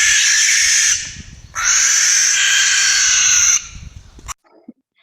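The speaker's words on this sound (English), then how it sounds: "barn owls can make this high-pitched screeching sound" A barn owl, held at a rehabilitation center, gives loud, harsh, high-pitched screeches in two long bursts close by, separated by a brief pause and trailing into quiet.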